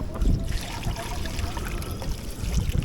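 Water trickles and splashes steadily as it is poured out for chickens in a winter chicken run, against a low, rumbling outdoor background, a continuous liquid sound with no speech.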